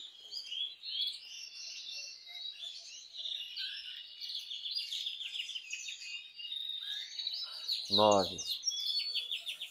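Agata canaries chirping steadily, a busy stream of high, rapid trills and tweets filling the room, with a brief spoken word breaking in near the end.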